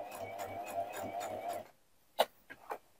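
A sewing machine running a reinforced straight stitch slowly around the edge of a small suede patch, a soft rhythmic whirring with regular pulses for under two seconds, then quiet with a few faint clicks.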